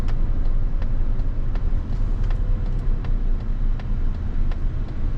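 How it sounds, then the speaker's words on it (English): A Mazda CX-90 plug-in hybrid coasts downhill in EV mode, a steady low rumble of road and tyre noise inside the cabin with faint ticks and no engine note. "Just gonna coast a little bit downhill here and let it charge a little bit"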